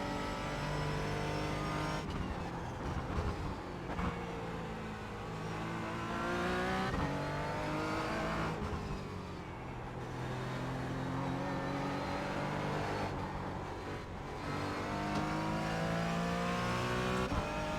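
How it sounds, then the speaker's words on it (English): A race car engine in the iRacing simulator revs and drops repeatedly with sweeping pitch changes, tyres skidding and regaining contact under the steady roar. "You can literally hear the car going dunk, dunk, dunk, dunk. The tyres just regaining contact and skidding."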